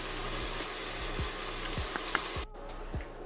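Chicken sizzles and crackles steadily in a hot pan, close by, with occasional soft knocks of a utensil stirring.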